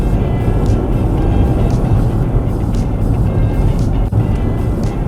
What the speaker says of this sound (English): Go on, little car, zoom.